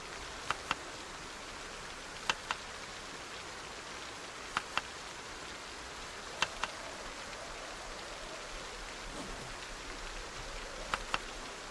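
Heavy rain in the video game Project Zomboid, a dense, steady hiss running the whole time, broken by a few sharp, brief clicks scattered throughout.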